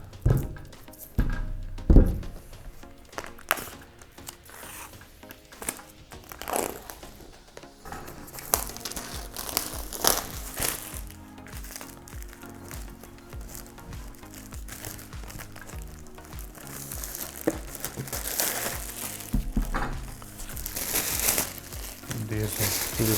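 Plastic wrap peeled and crinkled off the box of a 16-inch MacBook Pro, heard up close as a long run of crackling and tearing rustles with a few sharper pops, a voice speaking intermittently underneath.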